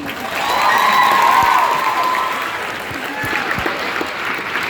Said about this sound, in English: Do we have one more round of applause for the first captain speech?